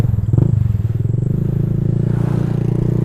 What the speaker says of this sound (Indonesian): suara knalpotnya bacot tapi enak cuy, adem.